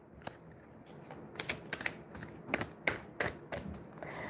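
Moonology oracle cards shuffled by hand for a reading, soft papery riffles and flicks in an uneven rhythm, close and fairly quiet, with no talking.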